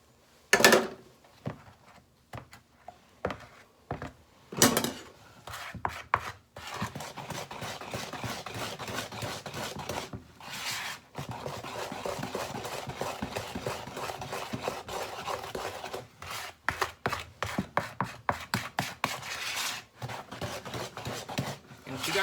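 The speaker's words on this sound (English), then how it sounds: "A rubber spatula, scrape your measuring cup out" A rubber spatula scrapes out a measuring cup in a run of quick, uneven scraping and tapping strokes, close and fairly loud, with short pauses between bursts.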